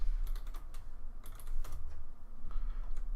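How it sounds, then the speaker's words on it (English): Rapid typing on a computer keyboard, a close run of light clicking keystrokes in irregular bursts with no speech. "Let's just type in 1 megabyte first."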